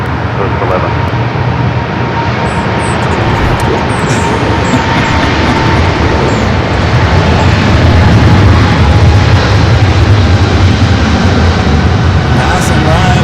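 An airplane passes close by at LAX airport, a loud, sustained jet roar that swells slightly toward the end, with radio chatter in the background.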